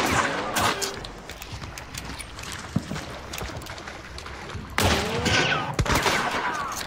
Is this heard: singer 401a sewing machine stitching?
no